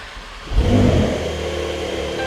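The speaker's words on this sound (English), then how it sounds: "I will jump in and I will fire this car into life." A 2020 Porsche 911 Carrera Cabriolet engine starts with a short cranking burst, flares into a loud rev, then settles into a steady idle hum, close by with no talking.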